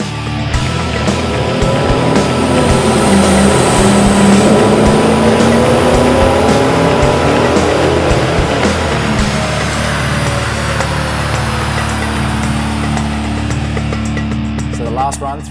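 A C5 Corvette engine on a chassis dyno during a power run, roaring loud and continuous as revs climb steadily for about fifteen seconds, with a whining drivetrain tone riding over the engine.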